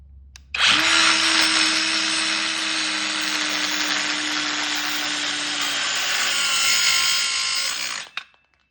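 A Dremel saw station cuts through a wooden 2x4, the motor starting sharply and holding a loud, steady whining buzz for about seven seconds before winding down, with no talking.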